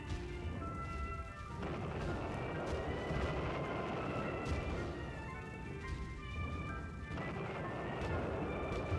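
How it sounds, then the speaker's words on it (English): Explosion sound effect erupts as a loud, dense rumbling blast with crackling debris and repeated booming surges that roll on for several seconds, heard at a distance without a clean single bang. "Holiday themed explosion!"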